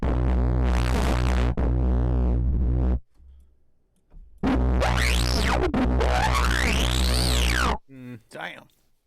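A Vital software synthesizer plays sustained, buzzing tones through hard-clip distortion, loud harmonically dense notes with sweeping pitch, broken by a brief near-silent gap and ending in choppy stutters.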